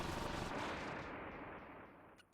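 Cannon fire in Kirby's Return to Dreamland Deluxe: a single heavy boom with a long rumbling decay that fades over about two seconds, quiet overall.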